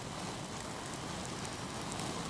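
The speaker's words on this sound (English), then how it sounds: "Rain all over the inside of my visor." Steady rain pattering on a motorcycle helmet visor on the North Coast 500 in the Scottish Highlands, a dense continuous hiss mixed with wind noise and no voices.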